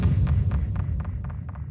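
A muffled explosion sound effect being designed, heard as a deep throbbing low boom with a series of soft repeating echo pulses fading over under two seconds, no voices.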